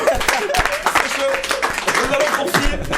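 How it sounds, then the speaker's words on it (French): Applause from an audience on a French-language television magazine show, a continuous dense patter of many hands clapping, steady and moderately loud throughout, with voices mixed in. "Applaudissez pour vous"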